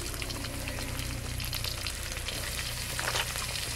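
Onions sizzling in hot oil in a pan as the base for a river pangas fish curry, a steady, dense frying hiss that runs without a break and with no voices.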